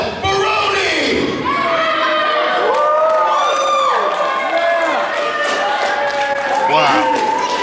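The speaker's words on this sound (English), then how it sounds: "get to your feet and give a proper applause to the New York badass, Bill Baroni." A wrestling show crowd cheers, whoops and claps for a former UFC fighter entering, a loud, continuous wall of excited voices and applause filling the whole stretch.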